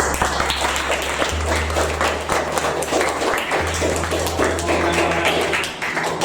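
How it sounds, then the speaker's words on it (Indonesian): Audience applause in an Indonesian classroom during a teacher certification exam session, a steady patter of clapping hands lasting several seconds over a low electrical hum. "Tepuk tangan buat Anda."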